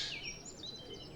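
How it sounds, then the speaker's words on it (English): A jay squawks in foggy woodland, a few harsh high calls, faint and somewhat distant over a quiet background, with no one speaking. "there's a jay over there, squawking away"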